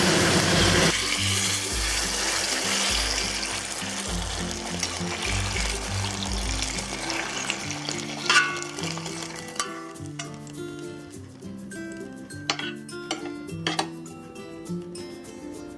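Stir-fried mustard greens with garlic being served onto a plate: clinks and scrapes of a utensil against pan and plate, with soft trickling bits, at close range over steady background music.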